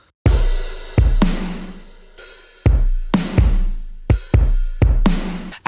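Drum kit with kicks, snares, open hats and crashes playing dry without bus processing: a loud broken pattern of heavy hits with ringing cymbal wash, alone.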